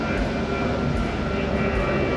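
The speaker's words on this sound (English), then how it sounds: "Airplane coming in." Airplane coming in to land at an airport beside a beach on Tenerife, a loud, steady roar of engine and rushing noise filling the air, close overhead with no voices.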